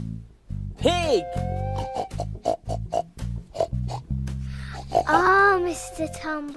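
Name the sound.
person imitating a sniffing pig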